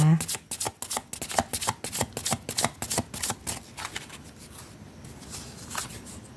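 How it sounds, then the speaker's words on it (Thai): A deck of tarot cards is shuffled close up, giving rapid riffling and flicking bursts that slow into lighter, sparser taps toward the end, with no one talking over it. "เดี๋ยวขอใช้ไพ่ทาโร่เช็คพลังงานเพิ่มนะคะ"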